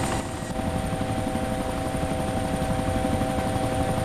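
A helicopter in the ArmA 2 military video game flies nearby, its steady loud rotor thump and engine whine filling the whole stretch without pause.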